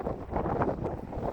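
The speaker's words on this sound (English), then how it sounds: "Oh, it's so windy." Wind blows outdoors on farm land near cows, a gusty rumbling buffet against the microphone that runs steadily through the short moment with no voices.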